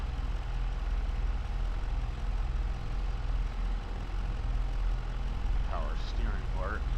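A tractor engine idles steadily with a deep, constant rumble throughout, and a voice briefly comes in near the end.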